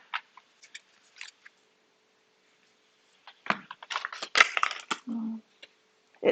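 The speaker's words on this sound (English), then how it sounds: "Let's get some more cards out for the collective." Tarot cards are shuffled and drawn, giving soft papery flicks and quick scattered clicks close by, then a denser run of snapping card sounds with short pauses between them.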